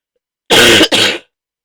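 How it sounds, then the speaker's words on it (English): Two loud, close, harsh coughs in quick succession from a person with a lingering cough, raspy like throat clearing, then silence. "I've still got this cough and it's driving me insane"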